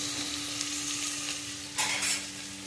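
Bitter gourd pieces fry in a pan with a steady close sizzle and hiss, swelling briefly as they are stirred, no one speaking.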